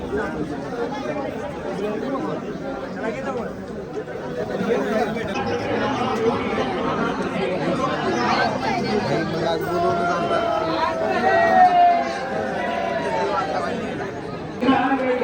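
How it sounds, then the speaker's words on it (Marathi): Large crowd at a temple festival celebrating the wedding of Shrinath Mhaskoba and Devi Jogeshwari: a dense, steady babble of many voices close around, with occasional louder calls rising out of the hubbub. "असली गर्दी आहे ना खतरनाक."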